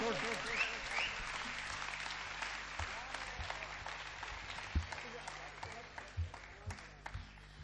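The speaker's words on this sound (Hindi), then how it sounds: "शैलेश लोढ़ा हो, एक भी हाथ खाली ना रहे, उनके सम्मान में अनवरत तालियां बजें" A large audience at a Hindi comedy poetry show claps continuously to welcome a performer, a sustained roar of many hands with scattered louder claps standing out as it gradually tapers.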